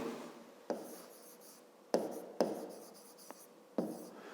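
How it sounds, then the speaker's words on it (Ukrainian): A pen scratches on paper in a quiet room for a math exercise, with short scribbled strokes and several sharp taps as the pen touches down, close and faint. "Записуємо тоді так, якщо."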